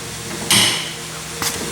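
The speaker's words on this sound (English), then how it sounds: "Close the door." A van door shuts with one loud, close thud, followed about a second later by a lighter knock, against a background of steady ambient noise.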